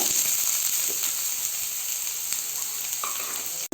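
Chopped onions tipped into hot oil with mustard seeds sizzle in a loud, steady hiss that holds for the whole stretch, with faint stirring scrapes and no talking.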